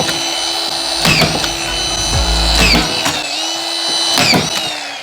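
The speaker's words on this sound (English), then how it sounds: "I'll just pop a couple of screws in it." A power drill drives screws into a drywall ceiling sheet in several short whirring bursts, each rising in pitch and then stopping, close and loud with no talk.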